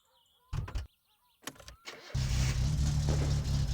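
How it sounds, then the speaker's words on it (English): A car in My Summer Car cranks with a couple of short starter bursts, then catches and roars steadily, fitted with a choke, running cold and unable to settle into an idle; loud and close with no talking. "It starts well, but it just doesn't run. It just doesn't tick over."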